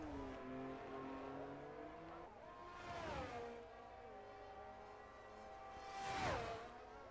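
A McLaren race car in a racing video game, its engine whining through steady harmonic tones that rise and fall with gear changes, with two swooshing passes as it charges down a straight toward the final corners, faint and even.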